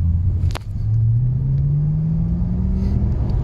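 Maserati GranSport engine pulling away in first gear, a steady low rumble with a rising tone as the car accelerates, heard from inside the cabin with no talk.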